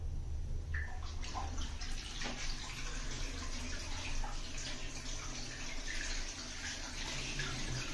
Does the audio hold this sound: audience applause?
no